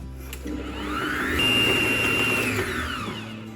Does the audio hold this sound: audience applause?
no